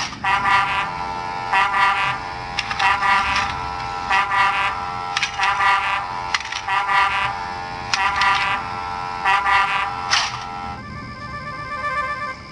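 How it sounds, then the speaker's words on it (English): A loud, tonal railway foghorn sounds in a series of repeated blasts, some short and some longer. The pattern keeps going steadily, with a brief break near the end. "It's a new invention, a railway foghorn, said the Fat Controller."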